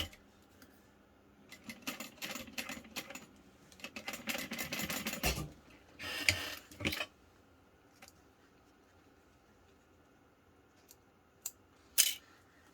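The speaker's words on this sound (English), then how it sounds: "And I'm going to top stitch this on" A home sewing machine top stitches a two-layer fabric tab onto a backpack, running in several bursts of rapid stitching with pauses between, ending in a few faint clicks and a sharp tap.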